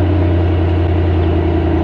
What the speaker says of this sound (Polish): pokażę wam jak przyspiesza ten samochód, bo to jest naprawdę, naprawdę mocne auto